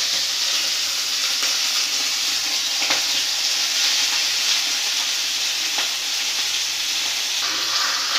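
Fish head frying in oil in a pan for a lauki and fish head dish, a steady close hiss and crackle of sizzling grease throughout with no talking.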